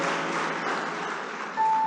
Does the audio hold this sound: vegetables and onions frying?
no